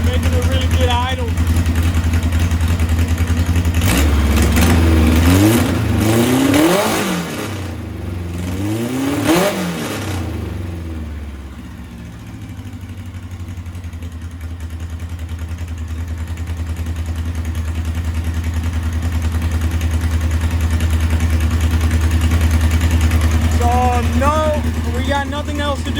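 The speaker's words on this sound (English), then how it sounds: "Carburetors are sounding right, sounding good, and they're accelerating how they should." A 1641cc engine fitted with Weber IDF carburetors revs in several sharp rising-and-falling bursts, loud and close, then settles into a steady idle with brief blips near the end while a voice talks over it.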